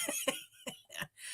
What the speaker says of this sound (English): I got coughing.